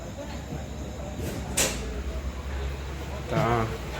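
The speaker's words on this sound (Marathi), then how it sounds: "तर ट्रेन तर हळूहळू चालली आहे एकदम." A passenger train on the Thane to Solapur route rolls slowly along the tracks, heard from inside as a low, steady rumble with occasional knocks and rattles.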